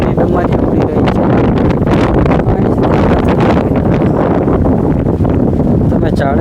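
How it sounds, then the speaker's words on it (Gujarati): Strong wind blows dust across a farm field while millet stalks are being gathered, with loud, gusting wind buffeting the microphone and roaring without a break throughout. "પવન પણ વધારે છે એટલે ધૂળની ડમરી ઉડી રહી છે."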